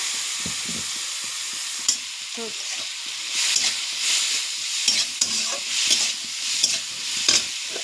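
Cumin and garlic fry in a hot pan with dried chilies, a continuous crackling sizzle broken by the scrape and clatter of stirring.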